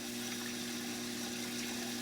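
Water runs steadily through the baffled chambers of a 90-gallon reef aquarium sump beside a protein skimmer and titanium heater, a constant quiet trickle over an even pump hum, with no voices.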